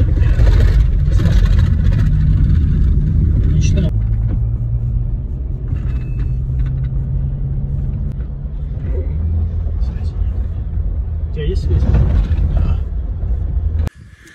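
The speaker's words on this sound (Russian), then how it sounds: "На машине по бездорожью мы проехали примерно 3 километра." A car drives off-road along an old Siberian trade track, its engine rumbling low and loud with bumps and shifts in tone, the noise changing sharply partway through; people talk over it in places.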